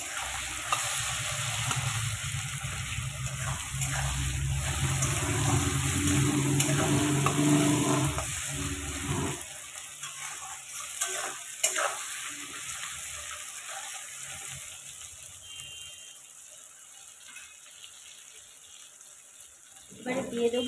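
Tomato and egg frying in a pan with bottle gourd for a Bengali dish, a steady close sizzle with stirring for about nine seconds, then fading to quieter crackle with faint kitchen noise and a small clatter near the end.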